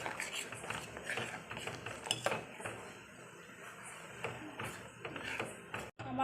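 Rasmalai milk with saffron food colour is stirred in a pot, with soft scattered clinks and scrapes of a spoon against metal, quiet and close.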